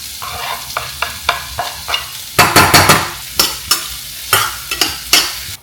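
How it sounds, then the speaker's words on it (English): Finely cut onion sizzles in a tablespoon of sesame oil with half a teaspoon of cumin seeds, punctuated by repeated loud stirring scrapes of a spoon against the pan. "I'm adding in a tablespoon of sesame oil, half a teaspoon of jeera, 1 medium-sized onion which I've cut very finely"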